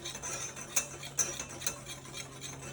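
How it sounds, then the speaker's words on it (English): Dry pancake ingredients with salt are whisked in a bowl, a quiet run of light scraping with a few sharper clicks of the whisk against the bowl, close and faint over a low steady hum. "I'm just going to give that a whisk to blend it all together."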